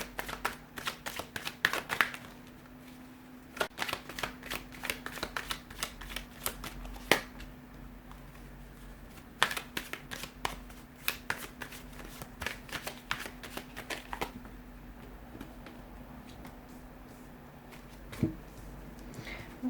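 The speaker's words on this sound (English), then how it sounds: "give the cards a shuffle here" Tarot cards are shuffled repeatedly in crisp, rapid riffles and bursts, close up, with brief pauses between shuffles and a faint steady hum underneath.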